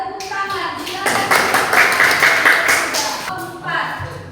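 Brief burst of classroom applause, a cluster of claps rising after a second and fading by about three and a half seconds, with voices before and after.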